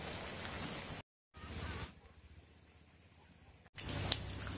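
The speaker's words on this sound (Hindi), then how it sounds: "बारिश हो रही है मेरे को छाता यूज करना पड़ रहा है।" Rain pours onto a street while someone walks under an umbrella, making a steady broadband hiss that drops out briefly and then returns louder.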